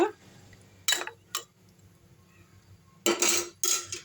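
A utensil scrapes and clinks against a metal cooking pot in a few short bursts, separated by quiet pauses, while stirring a pepper chicken curry.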